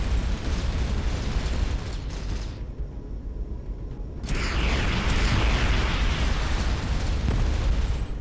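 Missile strikes in the space game Starcom: Unknown Space, a loud sustained roar of blasts that drops away briefly mid-clip and then surges back louder with crackling bursts.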